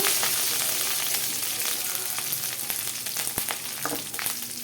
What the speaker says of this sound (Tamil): கடலைப்பருப்பு கொஞ்சம் எக்ஸ்ட்ரா போட்டுக்கோங்க கருவேப்பிலை நல்லா பொன்னிறமாக வணங்கட்டும்